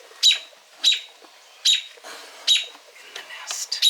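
A bird in a nest inside a barn under construction gives about five sharp, high chirping squawks in a steady rhythm, close and clear against a quiet background.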